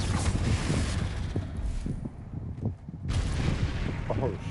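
Confringo blasting spell from Hogwarts Legacy, a string of sharp explosive bursts and crackling impacts amid game effects, loud and close, with a short quieter gap midway.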